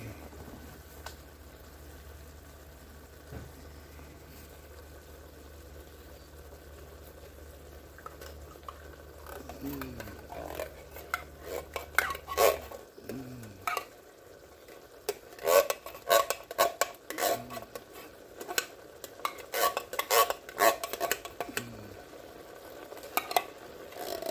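Condensed cream of mushroom soup is scraped out of a can into a sizzling pan, with repeated metallic scrapes and clinks of a utensil against can and pan over a steady frying hiss, close and moderately loud.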